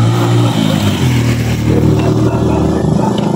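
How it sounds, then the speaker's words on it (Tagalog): Motorcycle engines pass along a road with a steady, loud drone of mid-pitched revving and a near, continuous roar throughout. "Mani daghang motor mang agi ngarang urasa."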